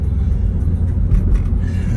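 Mopar car nearly 10 years old, its engine giving a loud, steady low rumble while driving, heard from inside with no talk over it.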